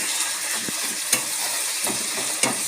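Garlic and ginger paste fries in hot oil, giving a steady close sizzle with a few sharp scrapes and clicks of stirring scattered through.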